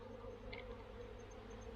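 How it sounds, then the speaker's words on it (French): A swarm of honeybees returns to its box during spring swarming on Réunion Island, a steady, low, continuous hum of many wings filling the air throughout. "Alors, on assiste à un retour des abeilles."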